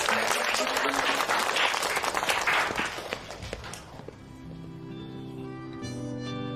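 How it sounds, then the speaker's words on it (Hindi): Loud applause from an audience for a boy, dense clapping filling the first four seconds before fading out as music takes over. "एक बार जोरदार तालियां उसके लिए।"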